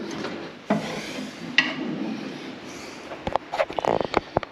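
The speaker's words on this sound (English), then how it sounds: "So I'm going to try to unscrew that." Scraping, rubbing and a few sharp clicks from unscrewing a small, dirt-covered brass vent, with scattered metallic taps toward the end; close and moderately quiet, no talking.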